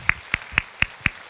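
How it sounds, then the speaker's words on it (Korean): A few evenly spaced hand claps, five sharp separate strikes in a steady rhythm, fairly faint and slightly roomy, from a church congregation at a Sunday service showing thanks. "박수로 감사의 뜻을 표하도록 하겠습니다"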